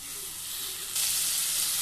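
Soya greens frying in oil for a mutton liver curry, a steady bright sizzle that grows louder and fuller halfway through, close and continuous with no voices.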